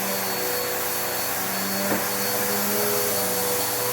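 A vacuum cleaner runs continuously while cleaning a room in a home, a loud steady whine and rushing airflow with no break.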